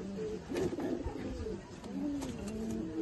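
Pigeons coo in a loft right after one bird is released, with a steady run of low rolling coos and some wing and movement noise around them, fairly close.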